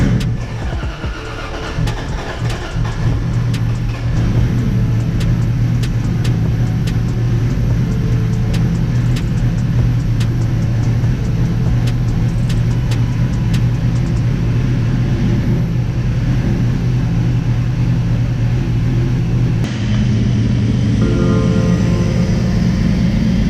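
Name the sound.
Toyota Supra 700HP engine idling after start-up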